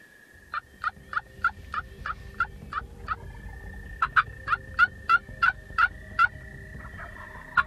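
Wild turkeys gobble across a morning pasture during spring turkey season, with about a dozen sharp, rhythmic gobbles in two quick runs, moderately close and clear over quiet background.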